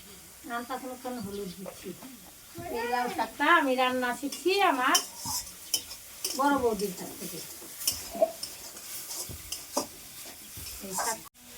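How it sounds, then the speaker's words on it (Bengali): Bottle gourd leaves are stirred and fried in a pan with turmeric and salt, with a soft sizzle and scraping utensil strokes under someone speaking Bengali nearly all the way through. "লবণ দিয়ে অনবরত নেড়ে চেড়ে আরও কিছু সময় নিয়ে ভেজে নেওয়া হবে"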